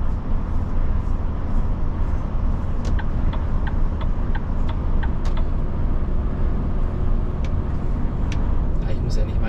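A Volvo FH16 780 truck drives on a road in Greece with its engine brake at the highest setting, giving a steady loud low rumble under a cab voice, with a few faint clicks.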